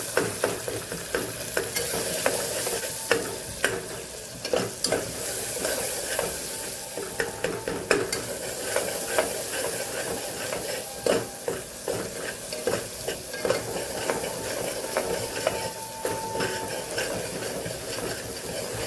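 Masala of coriander-cumin powder and salt sautéing in a pan, with a steady close sizzle under repeated scraping and clinking as a spoon stirs it throughout.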